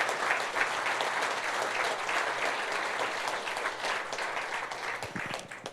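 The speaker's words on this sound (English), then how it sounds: "So let's have a round of applause for the Curvers family for being here tonight." Sustained applause fills a banquet hall at a college hockey awards dinner, steady dense clapping from a large audience holding at an even level throughout, with a few closer claps near the end.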